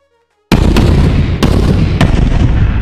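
Nuclear missile weapons fire in a space battle video game: after a silent start, a sudden loud roaring blast holds steady, punctuated by several sharp explosive cracks.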